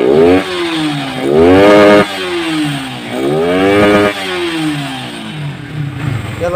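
A Yamaha Vixion motorcycle with a 200cc bore-up engine revs hard in repeated blips, each pull climbing sharply in pitch and then falling back to a rough idle, loud and close with no talking.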